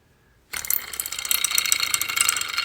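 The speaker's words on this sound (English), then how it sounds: "spin this little stick. And once it's done spinning, it will lock into place because it's magnetic." Small magnetic fidget stick with metal magnets on the outside, spun so it whirs with a fast, continuous clicking rattle that starts abruptly and carries on close and steady.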